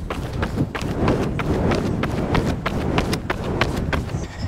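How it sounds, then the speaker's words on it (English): Steady rhythmic footfalls of a runner in HOKA Cielo Road racing shoes on a road, soft regular slaps over constant outdoor noise and rumble. "I am currently paying attention to the sound of the shoes."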